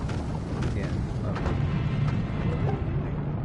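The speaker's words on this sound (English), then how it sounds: "you can hear all the explosions in the background" Explosions in the video game The Tomorrow Children, a run of deep booms and rumbling blasts in the background, dense and fairly loud across the stretch, with faint mechanical clatter mixed in.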